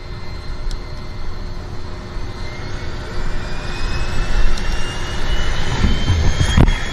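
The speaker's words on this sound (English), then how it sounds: "They're starting up the Twin Otter right here." De Havilland Twin Otter floatplane engines starting up at Vancouver Harbour: a steady, loud turbine roar and whine that swells gradually, with no voices over it.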